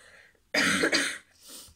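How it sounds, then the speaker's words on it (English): A single harsh cough bursts out close to the listener, followed by a softer breathy second cough, with quiet room sound before it. "I'm going to go and cough and stuff"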